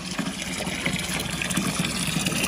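Steady gush of water running from a spring-fed line into an outdoor laundry area for washing clothes, a continuous close splashing flow with no pauses.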